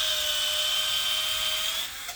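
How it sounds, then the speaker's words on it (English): A drill bit whines steadily at high pitch while boring through the rubber edge of a John Deere 44-inch snow blade, a close continuous tone that cuts off near the end. "It's actually pretty easy drilling through this rubber."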